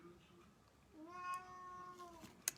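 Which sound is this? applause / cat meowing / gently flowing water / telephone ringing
cat meowing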